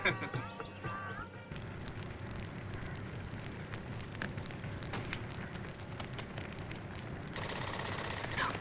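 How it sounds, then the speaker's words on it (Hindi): Rapid bursts of gunfire crackle outside during Hindu-Muslim riots in a film scene, a dense stream of sharp shots that runs steadily and grows slightly louder toward the end. "बाहर गोलियां चल रही हैं।"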